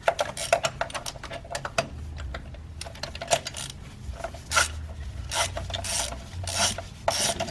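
Ratchet or wrench work loosening spark plugs on a 2014-2018 Mazda 3 engine, a series of close metallic rasping clicks and scraping strokes, some in quick bursts, with brief pauses.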